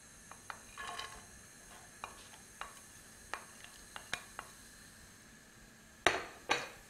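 Finely chopped white onion and crushed garlic cook in olive oil in a pan for a ragu, a faint low sizzle under scattered sharp utensil taps and clinks against the pan, with no talking.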